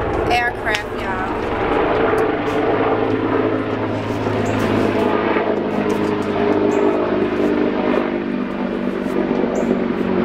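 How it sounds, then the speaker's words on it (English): An aircraft passes overhead outdoors, a broad steady engine rumble running throughout at moderate loudness, with a person talking over it. "Aircraft, y'all."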